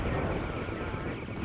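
A fighter jet engine from a Top Gun video game drones continuously in a steady low roar, close and fairly loud, with no talking over it.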